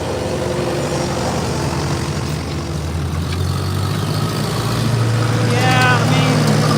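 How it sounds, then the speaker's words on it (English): An Allis-Chalmers 180 tractor at a tractor pull, a steady low engine drone throughout that grows slightly heavier toward the end, with people talking over it. "So Keith Wirtz is going to pull the Alex Chalmers 180 first."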